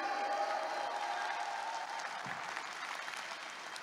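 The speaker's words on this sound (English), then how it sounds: "Can we give Reway a round of applause today?" An audience breaks into sustained applause, a steady wash of clapping that stays even and gradually thins, heard from within the room without talk.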